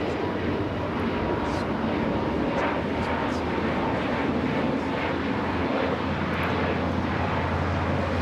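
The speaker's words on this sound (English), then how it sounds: "This is Spirit Airlines 2687 taking off to Kansas City on the A320neo" A Spirit Airlines Airbus A320neo takes off at Los Angeles LAX, giving a steady, fairly loud jet roar that stays broad and unbroken for the whole stretch.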